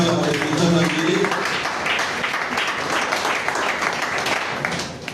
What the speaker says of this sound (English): So let us please give a round of applause to the Deputy Director of the Mental Health Unit.